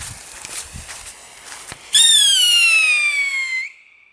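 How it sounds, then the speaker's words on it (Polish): A whistling firework rocket from a Slovakian fireworks set screeches for nearly two seconds in a loud, steady, slightly falling tone that cuts off abruptly, after quiet outdoor background noise. "Mam tutaj na przykład rakietkę. Rakietka typu piszcząca."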